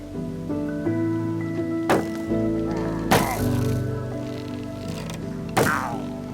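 Gunshots in the video game From the Forest, fired at a crow: three sharp, loud cracks spaced a second or two apart over a steady tonal game ambience.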